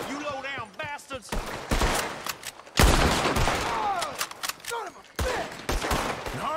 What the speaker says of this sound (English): Hardly see what I'm shooting at.